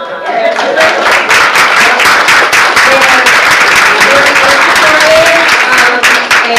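A crowd at a regular called meeting breaks into loud, sustained applause, with many hands clapping close and full. A few voices murmur and cheer faintly beneath the clapping.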